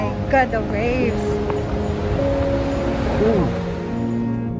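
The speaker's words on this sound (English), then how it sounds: "Oh my god, the waves!" Ocean surf breaking along the rocky coast at Cape D'Aguilar, Hong Kong, a steady broadband wash of waves heard beneath overlapping excited voices.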